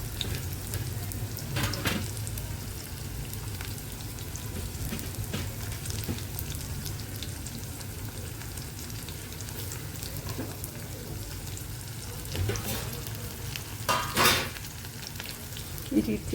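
Green chillies fry in hot oil in a pan for a moringa leaf curry, giving a steady close sizzle with occasional stirring scrapes and brief louder crackles.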